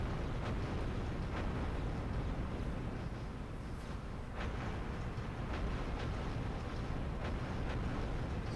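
Explosions in the ReBoot video game on PS1 rumble as a dense, loud, continuous low roar with a few sharper bursts layered in.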